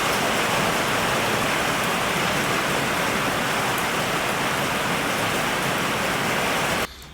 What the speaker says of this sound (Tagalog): In love ako sa ulan.